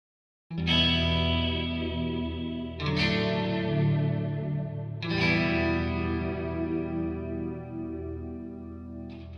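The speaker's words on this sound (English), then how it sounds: "on this patch we have the ADT chorus effect turned on and convolution reverb as well" Three sustained electric guitar chords from the EastWest Ministry of Rock virtual instrument, strummed one after another, each shimmering with an ADT chorus effect and trailing off into a wash of convolution reverb.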